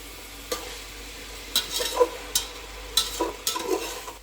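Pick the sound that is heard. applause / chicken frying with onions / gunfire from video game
chicken frying with onions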